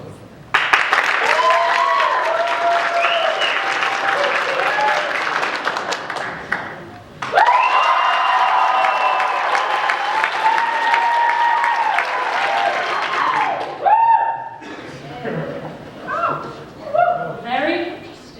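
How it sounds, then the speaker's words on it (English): An audience at a school musical breaks into loud applause to vote, two long bursts of clapping with cheers, followed by scattered chuckles and talk. "Please vote for either Thu or Dom by clapping when Gabe points to them."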